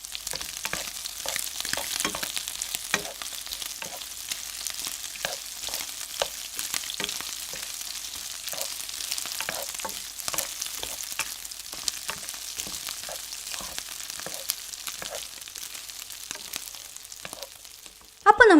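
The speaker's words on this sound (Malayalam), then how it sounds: "ഓയിൽ ഒന്ന് ചൂടായ ശേഷം നമ്മൾ മാരിനേറ്റ് ചെയ്ത് വെച്ച വഴുതനങ്ങ ഓരോന്നായിട്ട് നമുക്ക് ഈ ഓയിലിലേക്ക് ഇട്ട് കൊടുക്കാം." Marinated eggplant pieces frying in hot oil produce a continuous close sizzle and crackle with scattered pops, running steadily throughout with a brief louder clatter at the very end and no talking.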